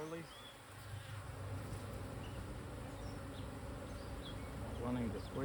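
Honeybees from a wild swarm buzzing continuously around an open hive while frames are fitted, a steady close hum with individual bees flying past, under faint talk.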